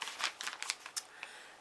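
Soft, quick papery rustles and crinkles, close and quiet, as someone rummages through items for a small piece of paper.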